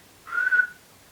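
A person whistles a single sustained, slightly wavering high tone imitating a dolphin's squeaky noises, held for about half a second, then a brief sharp chirp starts at the very end; no talking.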